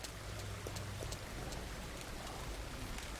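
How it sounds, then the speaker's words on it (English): Steady rain falls in the farming game Farmer's Dynasty, a constant even hiss of drops with faint low rumble underneath, no voices. "I was going to say it stopped raining, but then it didn't"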